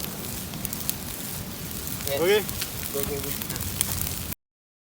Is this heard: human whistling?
no